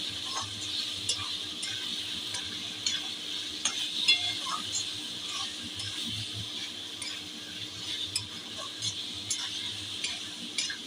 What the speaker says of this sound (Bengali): ভালো করে মশলাটা থেকে যতক্ষণ না তেল ছাড়ছে কষাতে হবে।